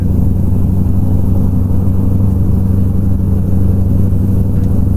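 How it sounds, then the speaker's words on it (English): A Peterbilt 389 truck engine in American Truck Simulator drones loudly and steadily at a low pitch, a constant close rumble with no breaks and no talk over it. "I am shifting just by the sound of the engine."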